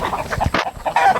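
Rhode Island Red hens clucking in a coop, a quick burst of several close, loud clucks and squawks over about a second.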